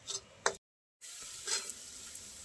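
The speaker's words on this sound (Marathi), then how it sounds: "हा मसाला थोडा वेळ परतून घेऊया, जेणेकरून याचं थोडंसं तेल सुटेल." Masala sautéing in oil in a pan with a steady sizzle, stirred in a few short scraping strokes, one brief silent break in the middle; close and fairly faint.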